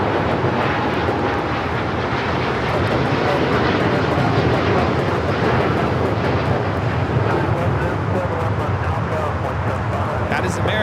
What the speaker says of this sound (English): 27 taking off to Tokyo Haneda on the 787-9 Dreamliner